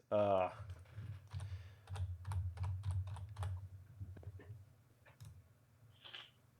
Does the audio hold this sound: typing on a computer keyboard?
yes